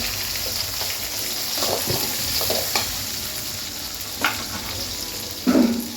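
Garlic, curry leaves and small shallots sizzle steadily in a pan for a garlic kuzhambu, with a few louder stirring scrapes and spatters over the constant frying hiss and no voices.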